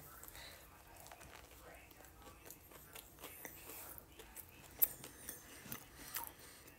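Someone bites and chews a spicy chicken cheese sandwich: soft crunchy bites and wet chewing, faint and close, with a few sharper crunches toward the end and quiet breathing underneath.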